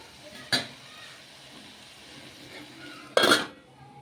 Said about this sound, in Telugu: ఇక మూత పెట్టేస్తాను